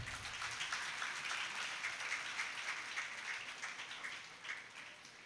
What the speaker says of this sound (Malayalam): നല്ലൊരു ക്ലാപ്പ് നമുക്ക് അവൾക്ക് വേണ്ടി കൊടുക്കാം.